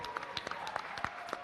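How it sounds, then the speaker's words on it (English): An audience at a valedictory session applauds with quiet, fairly sparse hand claps, heard faint and somewhat distant over the short moment. "So big round of applause."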